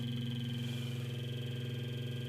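A car engine idles steadily just before shutdown, giving a low, even, pulsing hum with a constant tonal whine above it, with no talk.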